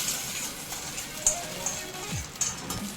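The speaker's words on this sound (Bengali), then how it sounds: "এবার চাটনির উপরে তড়কাটা দিয়ে দিচ্ছি।" Hot tempering of oil, black mustard seeds, dried red chillies and curry leaves poured over chutney for idli, giving a soft, rain-like sizzle with scattered small crackles and pops, moderately quiet and without talk.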